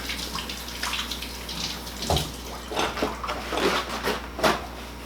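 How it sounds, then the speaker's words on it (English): Water runs from a kitchen tap while hands are rinsed in the middle of making custard pie, a steady close splashing stream with uneven surges as the hands move under it, no talk. "Let me rinse my hands off."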